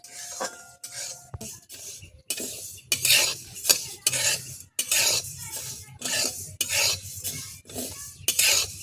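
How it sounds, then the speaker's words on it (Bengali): Rhythmic scraping strokes of a spatula stirring Gobindobhog khichuri lentils dry-roasting lightly in a pan, close and repeated about once a second, with a faint sizzle underneath. "খুব হালকা করে এইভাবে ডালটাকে ভেজে নিতে হবে"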